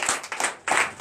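A church congregation at a Sunday service claps in acclamation, with bursts of handclaps rising and falling in a few uneven waves over about a second, fairly close and loud.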